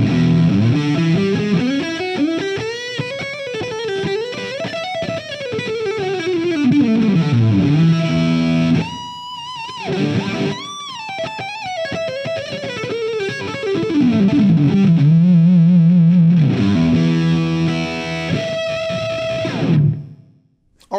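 Neck pickup of a Vigier Excalibur Supra electric guitar played on its own. A driven, singing lead tone weaves bending melodic lines and held notes, loud and alone, with short pauses and a final ringing chord cut off.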